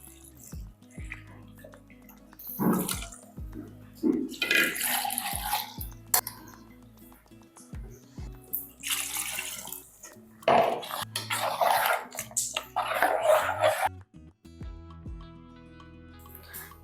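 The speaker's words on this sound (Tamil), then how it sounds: "தேவையான அளவுக்கு தண்ணி ஊற்றிக்கலாம்" Water poured into mutton kuzhambu in a pot, splashing and dripping in uneven bursts with clinking of metal utensils, close by in a home kitchen.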